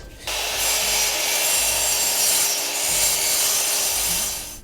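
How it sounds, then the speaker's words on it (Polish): A saw cuts through an aluminium LED strip profile set at a 45-degree angle: a single continuous rasping cut lasting several seconds, close and fairly loud, with no talk. "Piłę ustawiamy na 45 stopni i tniemy."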